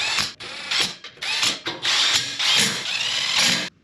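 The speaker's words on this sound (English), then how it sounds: "let's get these things bolted in" Close, loud ratchet clicking in quick bursts as parts are bolted onto an Escort Cosworth WRC replica tube chassis, with short pauses between runs of the pawl.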